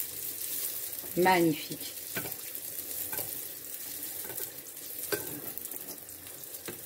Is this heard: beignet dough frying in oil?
yes